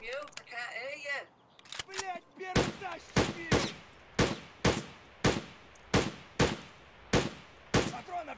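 An invincible scav firing at the player in Escape from Tarkov: a steady series of about ten loud, sharp single gunshots at roughly even intervals, following a brief stretch of speech.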